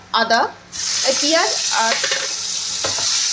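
Onion and tomato paste frying in a pan, a sudden loud sizzle that holds steady after a short burst of speech, with faint stirring scrapes and more talk partway through.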